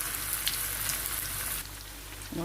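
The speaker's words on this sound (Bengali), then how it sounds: "এদিকে পেঁয়াজ ভেজে নিচ্ছি" Onions frying in a pan, a steady soft crackling sizzle close by that drops in level partway through, with a brief clunk near the end.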